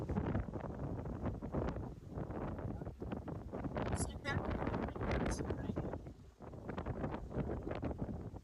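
Breezy wind buffets the microphone at an island outlook on the north coast of Sao Miguel in the Azores. Gusts rise and fall in uneven surges under a few faint voices.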